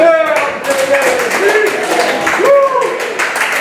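Audience clapping for Debbie at the Noelke Gallery, mixed with voices and a few cheers, steady and fairly loud for the whole stretch.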